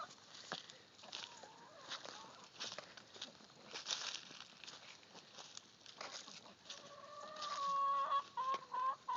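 Chickens cluck and squawk in a pen, the faint scattered calls growing louder and more insistent toward the end, with light handling noise and no talk.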